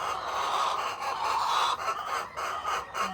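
Chickens on a small farm cluck in a soft, continuous chatter at moderate distance, with no talking.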